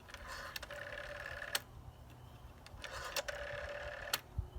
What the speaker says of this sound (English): Remember dialing that rotary phone?